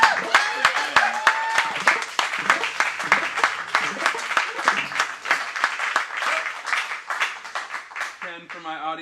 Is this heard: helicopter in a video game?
no